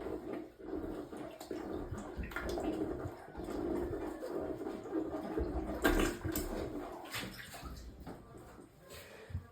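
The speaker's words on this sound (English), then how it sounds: "So I'm just going to do a little bit of plunging again." A plunger works a clogged toilet, with wet sloshing, gurgling and splashing water in a bathroom, irregular and moderately loud, building to a stronger splash midway.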